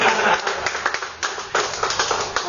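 A small group clapping at a US Navy re-enlistment ceremony, close and fairly loud, with uneven bursts of hand claps and a brief lull partway through.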